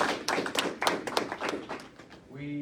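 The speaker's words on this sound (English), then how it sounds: "let's give her a big round of applause for passing" Clapping from an audience honouring Delegate Ray Cousins at a legislative caucus update, a handful of close, sharp, irregular hand claps that thin out and fade, with a voice starting at the end.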